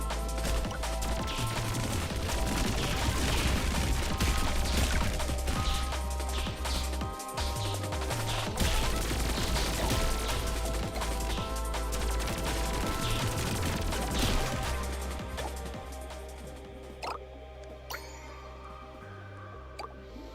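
Continuous laser fire in The Binding of Isaac, a dense, steady stream of zapping and splashing shots running loud for most of the stretch, easing off near the end amid game music.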